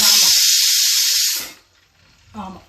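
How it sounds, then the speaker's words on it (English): Pressure cooker hisses steadily and loudly while cooking vadai, the steam hiss cutting off after about a second and a half, followed by quieter crackling and a short burst near the end. "Go by the crackling sound."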